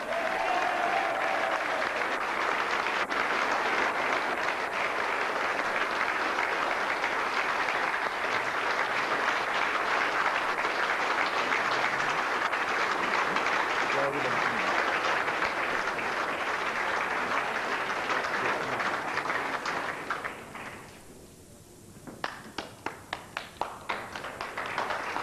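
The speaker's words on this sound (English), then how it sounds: "And your applause, please, for the winner." Audience applause for the winner of a Welsh indoor lawn bowls singles final at an indoor centre in Llanelli, a steady dense clapping that fills the room for about twenty seconds before thinning to a few scattered claps.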